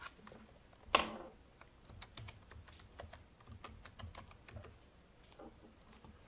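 Someone types a password on a computer keyboard: one loud initial clack, then a quick run of soft, close keystrokes at an uneven pace, with no voices.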